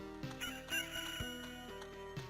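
A rooster crows in the video game Loop Hero, a clear cock-a-doodle-doo call with a rising and falling pitch that runs for about two seconds, alone and fairly quiet.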